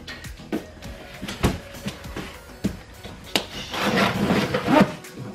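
A screwdriver is worked against a cardboard shipping box, giving scattered scraping, rubbing and tapping sounds with sharp little knocks and a longer rasping stretch near the end, close and moderately loud.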